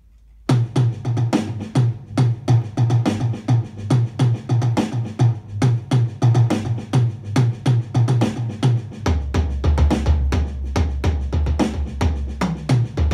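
Faster Afro-Cuban Nanaigo drum groove on a kit, with dense, rapid strokes mixing accents and soft ghost notes in a tight repeating pattern, loud and alone.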